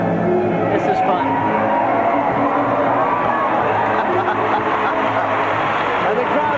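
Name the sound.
crowd cheering at a gymnastics exhibition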